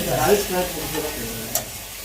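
Bottle gourd and potatoes cooking in a pan, a steady close sizzle with stirring scrapes and one brief sharper knock near the end.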